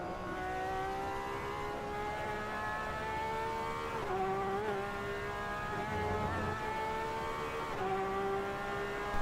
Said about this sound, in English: Another LMP coming through.